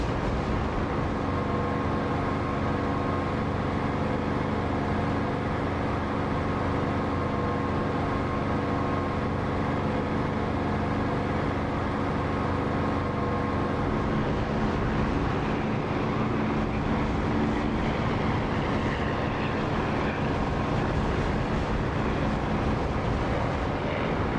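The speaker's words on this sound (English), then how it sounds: "I'm sure this is not my Echo 19 engine sound" A jet engine hums steadily in the DCS flight simulator during a strafing run, a dense, continuous drone with tonal whine lines that holds unbroken for over twenty seconds.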